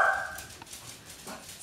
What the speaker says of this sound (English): Excuse my crazy dogs.